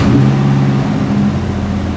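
A 1976 Chevrolet Malibu with a swapped 5.3 V8 runs close by, a loud, steady engine rumble with a faint whine and slight fluctuations in idle.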